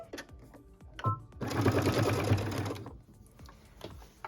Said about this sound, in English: So I'm going to set that down and we're going to start stitching.